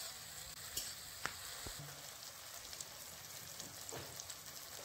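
Tomato and ginger paste sautéing in a hot pan gives a steady, close sizzle with light crackles and a few sharp spatula scrapes, no voices.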